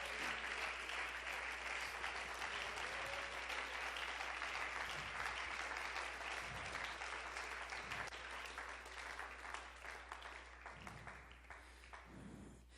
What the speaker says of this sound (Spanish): ¿Cuánto le dan un aplauso al Señor por esos verdaderos hombres?